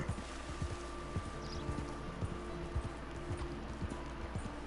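A horse's hooves clip-clop at a walk along a trail in the Red Dead Redemption 2 video game, with soft, regular footfalls over a low ambient background and no talking.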